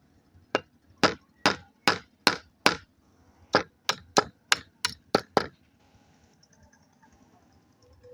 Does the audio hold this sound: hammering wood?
yes